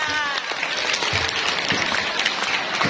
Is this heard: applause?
yes